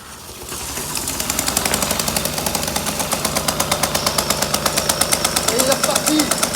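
A Solex moped engine, just refitted to its frame, catches and runs, settling into a rapid, regular putter of firing pulses close by.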